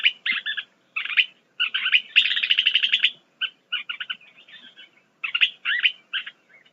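Western kingbirds give bursts of sharp, chattering calls, repeated in quick clusters with short pauses between them, close and clear against a quiet background.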